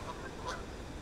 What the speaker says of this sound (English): And you've got the geese in the foreground.